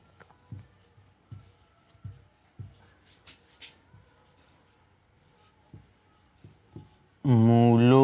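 A pen writes a maths formula on paper during a Class 10 lesson, heard as soft, rhythmic scratching strokes close by, followed by a voice speaking at the end.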